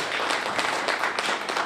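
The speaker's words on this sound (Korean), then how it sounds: "박수 한번 부탁드리겠습니다." A live audience claps steadily for a couple of seconds after a talk on the Korean economy, a dense, even wash of many hands with no voices on top.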